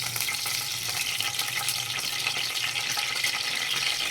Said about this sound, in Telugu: దీంట్లో సాజీరా, ఈ హోల్ గరం మసాలా వేసేసుకుంటున్నాను.